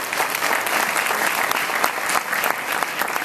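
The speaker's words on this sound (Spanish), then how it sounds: "Yo quiero un aplauso para él." Steady audience applause fills the whole stretch, dense and even with no pauses, at an awards gala honoring radio and broadcast figures.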